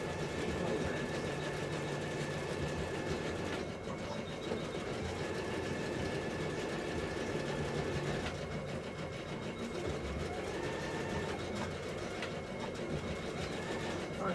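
A sewing machine runs front and back stitches along a 5/8-inch seam allowance, a steady low mechanical whir with a faint rhythmic hum that pauses and restarts a couple of times.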